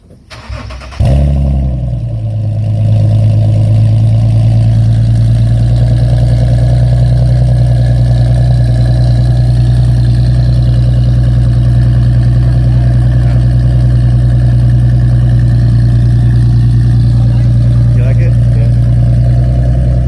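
A Nissan 370Z fitted with a Motordyne Art Pipes exhaust starts with a short crank and sharp catch, then settles into a loud, deep, steady idle that drones evenly to the end.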